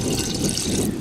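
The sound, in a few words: water being poured in while making lassi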